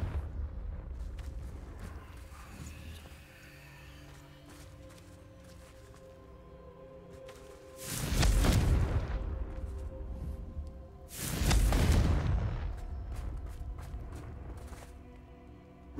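Two heavy, booming Confringo spell blasts from Hogwarts Legacy erupt several seconds apart, loud and close, each rumbling off for about a second over quiet ambient sounds and light footsteps, with no talking.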